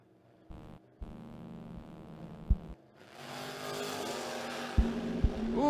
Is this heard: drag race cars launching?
yes